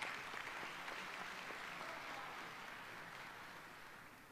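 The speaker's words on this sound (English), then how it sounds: "Let's give them another round of applause" Steady applause from the audience at a college commencement ceremony, a continuous, even rush of many hands clapping that stays fairly distant and slowly fades, with no talk over it.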